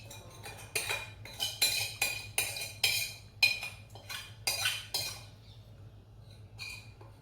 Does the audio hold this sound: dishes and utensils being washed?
yes